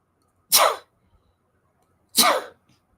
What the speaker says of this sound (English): I will sneeze again.